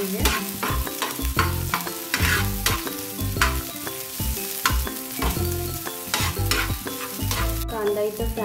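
Chopped onion frying in a pan gives a loud, continuous sizzle under busy, dense clatter and layered tonal sound, with no one talking.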